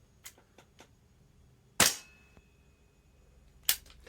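A Tokyo Marui MWS gas blowback airsoft rifle firing single shots with airtight rubber gas routers: a few sharp, close cracks stand out against near silence, with faint clicks and handling noises between them.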